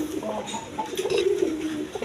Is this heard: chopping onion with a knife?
no